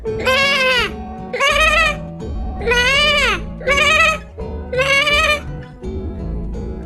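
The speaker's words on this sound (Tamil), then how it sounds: "செம்மறி ஆடு எப்படி கத்தும்" A sheep gives five drawn-out, wavering bleats in a row, loud and close, each separated by a short gap.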